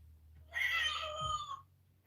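A single drawn-out cat meow played as a sound effect, a bright, wavering cry about a second long that bends downward at the end, heard alone over a low background hum.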